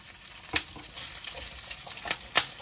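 Onion fries in a hot pan with a soft, crackling sizzle broken by a few sharper spits and stirring clatters, close up and fairly quiet.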